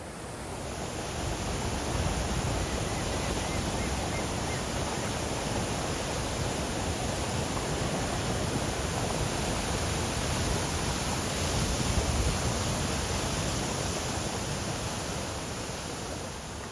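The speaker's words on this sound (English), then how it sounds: "Follow the lower circuit route for an up-close encounter with cascading falls." The Iguazu waterfalls cascade in a steady, dense roar of rushing water, loud and unbroken throughout with a faint high tone running above it.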